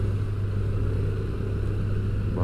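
A car follows a labouring truck up a steep, rough mountain road, with a steady deep engine drone and rumble close by and no talking.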